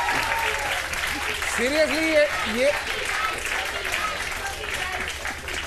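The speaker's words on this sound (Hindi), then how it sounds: "बहुत सारी तालियां की इन साहब के लिए।" A studio audience at a television talk show applauds steadily throughout, a continuous clatter of many hands while someone speaks over it.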